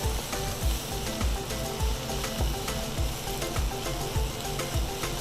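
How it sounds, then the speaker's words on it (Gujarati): Chopped onions sautéing in a pan on an induction cooktop set to 160 degrees, a steady close sizzle with repeated soft scrapes of stirring, no talking. "હવે આ ડુંગળી સંતળાઈ ગઈ છે."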